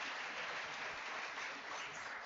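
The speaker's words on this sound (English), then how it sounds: "So a round of applause" Applause for a director at a national records management conference, a uniform, fairly soft wash of clapping that runs through without pause.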